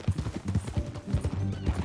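Quick, rhythmic clip-clop of horse hooves trotting at a steady pace in Red Dead Redemption 2, fairly close and loud, with no talking over it.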